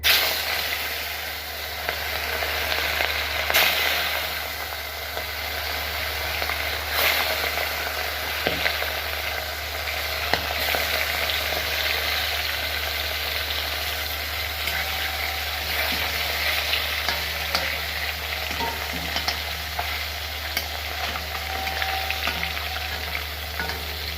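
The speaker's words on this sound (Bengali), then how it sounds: "এখন মাছটা আমি একটু হালকা ভেজে নেব।" Fish is lightly fried in a wok on a stove, a steady continuous sizzle and crackle of hot oil with occasional sharp pops, close and even throughout with no talking.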